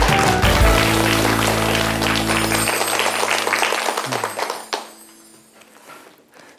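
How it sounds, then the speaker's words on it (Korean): Studio audience clapping at the start of a televised lecture, broad applause under a sustained musical tone that fades away, leaving faint scattered claps. "오늘 강의 박수로 청해 듣겠습니다"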